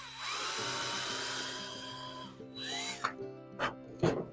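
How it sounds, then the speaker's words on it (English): A small drill bores a hole into the top of a taxidermy squirrel, a steady high whine running for about two and a half seconds, then a few short bursts as the bit bites in, close and fairly loud. "I'm going to drill a hole right in the top here"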